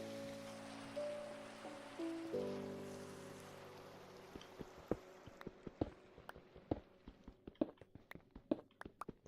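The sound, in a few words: rain falling in a video game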